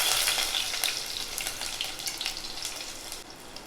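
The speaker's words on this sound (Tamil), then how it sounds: "அது நல்லா பொரிஞ்ச பின்னாடி வெங்காயம் சேர்த்துக்கலாம்" Fennel, cinnamon, cloves and cardamom, then onion, sizzle and crackle in hot peanut oil and ghee for an egg kuruma, a steady close frying hiss with scattered pops throughout.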